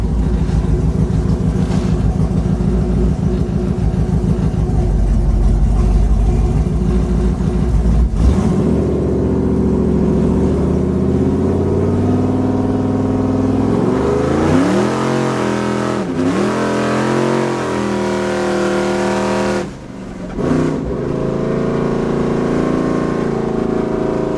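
A 6.0 V8 in a Chevrolet K5 Blazer rumbles loudly up close, rising and falling through repeated revs, with fans running and one brief dip where the engine stumbles before picking back up.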